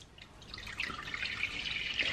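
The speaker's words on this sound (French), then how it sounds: "On va commencer par verser le lait." Milk is poured from above into a pot on an unlit stove for a dessert cream, a soft trickling pour that grows steadier and slightly louder over two seconds, close and quiet.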